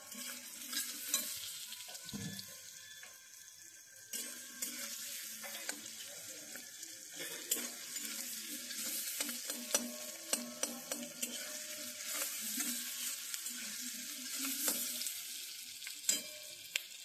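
Meat stirred and fried in a pan on a home stove, with a steady sizzle and repeated scraping and clinking of the spoon against the pan. The cooking noise is close and continuous, with no talking.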